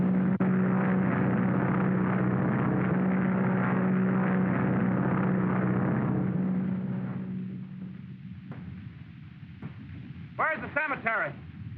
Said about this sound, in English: Okay, chum, I'll get the plane.